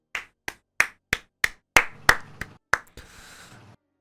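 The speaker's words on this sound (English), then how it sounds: "Timo applauds some." One person claps alone in a slow, uneven run of about nine sharp claps, close and dry, trailing off with a faint rustle at the end.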